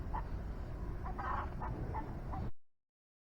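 Farm chicken clucking in several brief, scattered calls at moderate distance over a constant low rumble, ending abruptly in silence.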